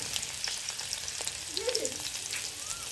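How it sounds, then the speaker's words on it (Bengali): Chopped ginger and garlic fry in oil in a frying pan, giving a soft, steady sizzle with faint crackles and a brief stir of the pan, no voices. "ফ্রাই প্যানে তেল দিয়ে দিলাম আদা কুচি দিয়ে দিলাম সামান্য পরিমাণ আর সামান্য পরিমাণ রসুন কুচি দিয়ে দিলাম"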